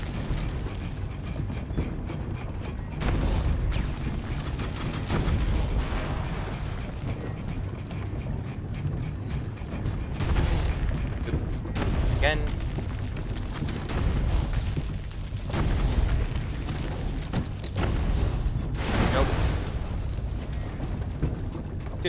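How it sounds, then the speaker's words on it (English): Cannon fire in Assassin's Creed Brotherhood, with repeated heavy booming blasts about every two to three seconds over a dense, rumbling battle din and mechanical clatter. "Two more cannons for this objective."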